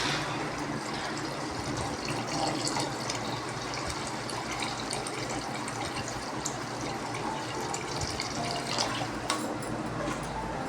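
Water poured into a pot for black chana pulao makes a steady, close splashing and trickling, continuous for several seconds, with no speech over it.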